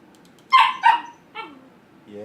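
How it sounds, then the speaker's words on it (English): A small dog barks twice in quick succession close to the microphone, followed by a whimpering yip and a drawn-out whine. "Small dog."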